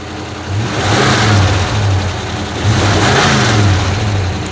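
A 1977 Chevy Camaro engine, newly revived after a decade dormant, runs at a steady high fast idle, rising in a couple of slow revs and settling back, loud and close.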